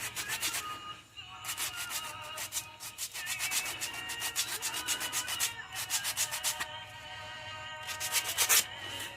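Sanding a carved wooden glide bait by hand: steady, close, raspy strokes in a rapid back-and-forth rhythm, rising and pausing in short bursts over a low background hum.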